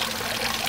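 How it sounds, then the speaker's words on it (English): Water from a frog fountain splashes steadily into a deck pond, a close, bright pouring trickle that runs unbroken for a brief moment. "that's where the water from the frog is landing"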